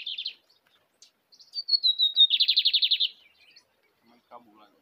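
A caged lined seedeater sings clearly and close: a quick chirp, then a rising thin note running into a fast, even trill, followed by softer scattered calls near the end.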